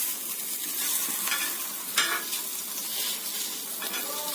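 Pesarattu, a moong dal dosa, sizzles and fries in a pan, with steady crackling, soft stirring scrapes and one sharper clink of a utensil partway through.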